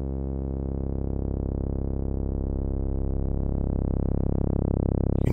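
Sawtooth wave from a Eurorack synthesizer passed through a VCA with amplitude modulation gradually increased, a steady buzzy tone growing more complex and fluttery with a slight mid-range lift over several seconds, no voices.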